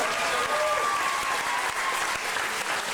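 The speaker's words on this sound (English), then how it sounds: "Give him a big round of applause, guys." Audience applause at a party game event, a steady wash of clapping from a crowd that holds evenly for about three seconds, with a few voices mixed in.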